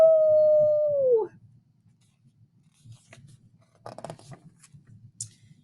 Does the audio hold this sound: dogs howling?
yes